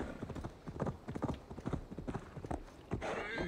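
Hooves of a horse in Assassin's Creed Valhalla clop in a quick, even gait, close and prominent, with the rhythm continuing to the end under a faint rising ambient tone.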